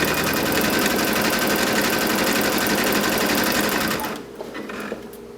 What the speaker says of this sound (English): I've never seen a machine sew as well on elastic and Lycra.